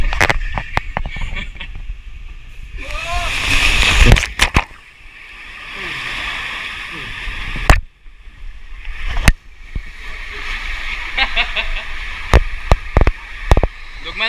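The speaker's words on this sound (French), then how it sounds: "Donc maintenant on est dans les vagues." Waves wash and splash through an indoor wave pool at Aquaboulevard in Paris, a steady rushing churn with sharp louder slaps, heard under a lively, echoing water-park crowd.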